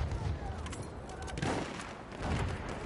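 Gunfire from the video game Battlefield 1 comes in quick bursts and scattered shots at moderate loudness, with brief talk mixed in.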